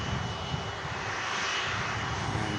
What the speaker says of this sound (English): maybe it's just been told to wait while the 380 taxis out